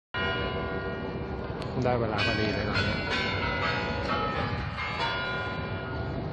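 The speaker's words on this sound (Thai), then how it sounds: "แต่ทำไมระฆังมันถึงตีตอนอีก15นาทีจะเที่ยงล่ะ" Church bells ringing in Moscow, a series of resonant metallic strikes layered over one another, ringing out across a busy outdoor space while someone speaks briefly.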